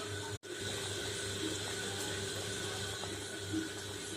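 Coconut milk poured into a pan of prawn curry base, giving a steady continuous liquid pour and sizzle that runs throughout at moderate level, with one brief break near the start.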